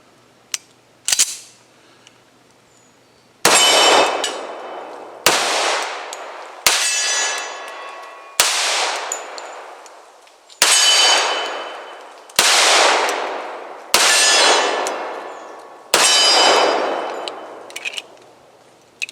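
.45 caliber pistol firing at a steel target, with a couple of quick early shots followed by about eight evenly spaced loud cracks, each ending in a bright ringing clang that decays before the next.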